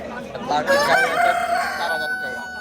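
A rooster crows once, fairly close and loud, at a Bangladeshi bird market where roosters and hens are on sale, with faint market background around it.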